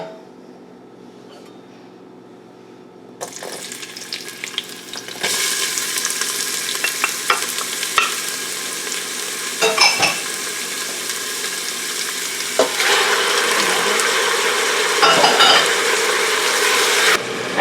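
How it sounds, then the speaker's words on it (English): Onion and lamb sautéing in a hot pan for a Tunisian green pea stew, a quiet start giving way to loud, steady sizzling with intermittent scraping and stirring clatters, no voices. "we're gonna saute our onion and lamb on a hot pan"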